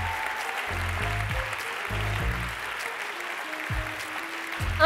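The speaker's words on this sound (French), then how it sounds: "Une dernière petite salve d'applaudissements pour eux." Audience applause at the closing of a university doctoral thesis speaking competition final, a burst of clapping from a seated crowd that swells and fades in waves, with music playing underneath.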